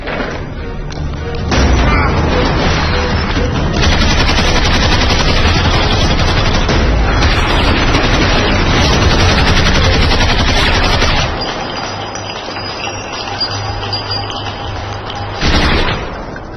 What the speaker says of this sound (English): Sergeant, who's shooting?